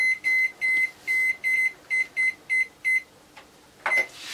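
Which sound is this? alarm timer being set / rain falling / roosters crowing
alarm timer being set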